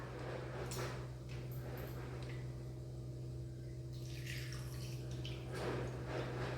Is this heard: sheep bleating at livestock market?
no